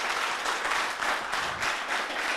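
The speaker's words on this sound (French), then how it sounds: "Ça peut s'applaudir." Audience applauding at a youth civic event in a Koumassi town hall, Côte d'Ivoire: steady, dense clapping from a crowd that fills the whole short stretch at an even level with no voices over it.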